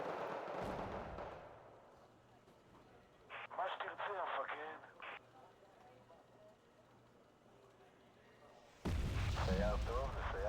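Artillery fires in a tank video game: a loud, deep boom near the end follows quieter stretches with people talking throughout.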